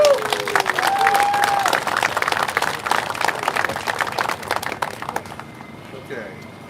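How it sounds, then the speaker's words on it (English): A crowd applauds steadily at a drivers' meeting, dense clapping that tapers off toward the end as it fades. "Give them a big round of applause."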